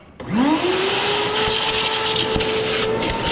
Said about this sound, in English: all we're gonna do is vacuum it up